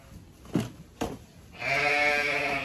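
Sheep in a lambing shed on a farm, two short close bleats followed by a longer sustained bleat, with low background noise and no talking.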